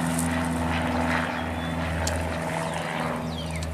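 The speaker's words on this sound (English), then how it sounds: "So wait for that plane to go." A propeller airplane drones steadily overhead above a garden, loud and continuous throughout with no talking.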